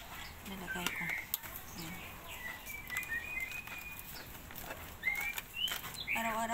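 Pet shama birds kept indoors, about 27 of them, chirp and whistle in short scattered calls and trills, fairly close, with a soft background murmur.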